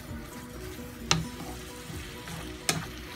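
Meat sizzles steadily while frying in a pan, with two sharp scraping stirs of a spoon about a second and a half apart, close up and with no talking.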